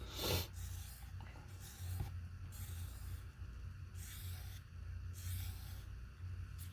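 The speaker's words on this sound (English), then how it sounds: "Get some stir sticks here and just kind of scrape the sides off like this." Stir sticks scrape around the sides of a mixing container of casting material for miniature bases, a quiet close rasping rub repeated in uneven strokes over a low steady background hum.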